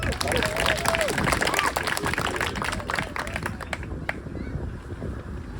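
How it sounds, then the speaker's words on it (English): Applause at a baseball awards ceremony, a crowd clapping continuously at moderate distance with cheers and voices mixed in, tapering off toward the end. "So big round of applause for him."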